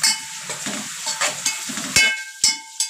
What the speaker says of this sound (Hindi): और अब इसमें डाल देंगे कड़ी पत्ता,